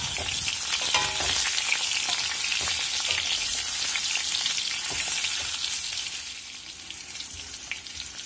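Boiled hog plums sizzle and crackle as they fry in a hot pan and get stirred, a steady close frying hiss with scraping of the spoon throughout.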